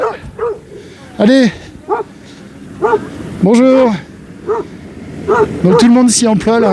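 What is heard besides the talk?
dog barking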